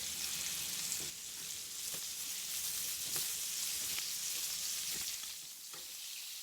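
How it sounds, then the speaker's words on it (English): Swedish meatballs fry in a pan, giving a dense, continuous sizzle that stays loud and even throughout, with a few faint ticks and pops on top and no voices. "You're going to fry them until they're golden brown on all sides."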